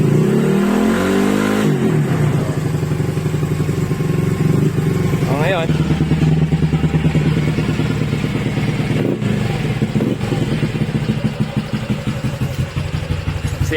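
A car engine with a suspected faulty O2 oxygen sensor is revved repeatedly, loud and close, rising and falling with a slightly uneven, stumbling idle between pushes, while people talk over it.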